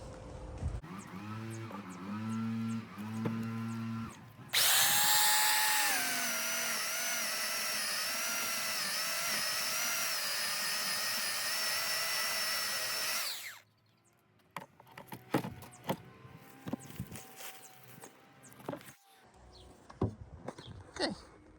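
A power saw cuts through a thick, fibrous exotic garden plant for several seconds with a loud, high steady whine, then stops, leaving scattered rustles and knocks; a brief softer tool run comes first.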